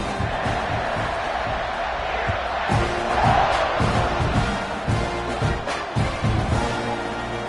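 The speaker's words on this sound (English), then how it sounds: "this crowd is buzzing after that last score" A stadium crowd in the College Football 26 video game, LSU against Texas A&M, roars in a loud, continuous buzz with rising cheers and scattered thumps throughout.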